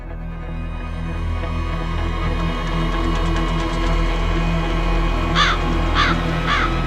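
A crow caws indoors at a home, three short harsh calls near the end over a steady low hum and background noise.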